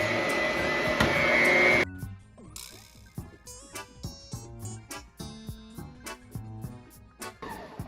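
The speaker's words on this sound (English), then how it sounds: "we're gonna put it in the mixer again" An electric stand mixer creams banana bread batter, a loud steady whirring drone for a couple of seconds that cuts off, followed by a quiet stretch of soft rhythmic knocks and clatter.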